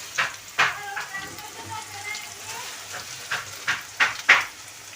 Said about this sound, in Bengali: ভালো করে লাল লাল করে পেঁয়াজটা ভাজা হয়ে যায় বেরেস্তার পেঁয়াজটা তারপর তুলে নেব